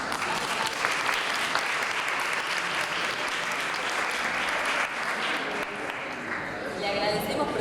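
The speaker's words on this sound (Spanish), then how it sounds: "Un aplauso para ustedes," Sustained applause from an audience at a talk in the Civilización y Barbarie lecture series, dense and steady throughout, thinning slightly near the end.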